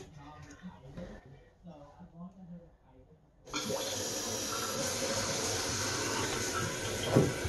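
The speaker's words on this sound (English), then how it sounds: "Now it's fast filling now." A slow-filling toilet tank, just repaired, begins to refill fast with water, a sudden steady rushing hiss that starts midway and runs strongly to the end, after a person talks quietly in the first half.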